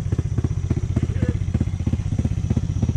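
Motorcycles ride along a rough mountain road, their engines putting out a close, rhythmic, pulsing throb with some clatter.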